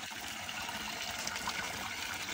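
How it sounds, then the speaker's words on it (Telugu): Chintamani waterfall at the Mallur Narasimha Swamy temple, a small stream of fresh water falling from the rocks, heard as a continuous close splashing rush with no talk over it. "ఇదే చింతామణి జలపాతం."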